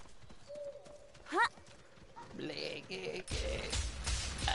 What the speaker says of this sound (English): I hear horse